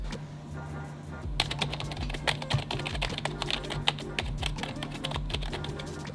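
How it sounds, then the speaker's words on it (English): Rapid typing on a Corsair K57 wireless RGB gaming keyboard with quiet, tactile keys produces a fast run of soft, close clicks and taps over a low background hum. "it actually makes for quite a nice silent gaming keyboard"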